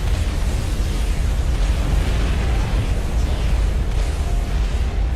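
Aeon artillery shells exploding in Supreme Commander: Forged Alliance, a dense, continuous rumble of overlapping booms and bursts that stays loud and steady throughout with no clear gaps.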